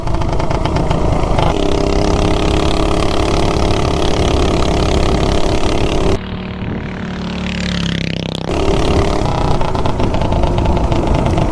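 A 420cc minibike engine fitted with a new sprocket revs hard and steady at high RPM, loud and close, with a brief dip and shift in tone partway through before the strong drone returns.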